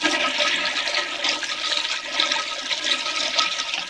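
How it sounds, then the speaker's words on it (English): A malfunctioning household toilet being flushed while it overflows onto the floor, a loud, steady rushing and gurgling of water up close, continuous throughout with no talk. "I keep flushing and it just keeps doing the thing"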